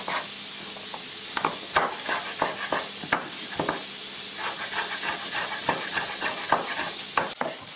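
Prawns toasting in a hot pan: steady close sizzling and hissing with repeated scraping, stirring clicks from a utensil against the pan, continuous throughout.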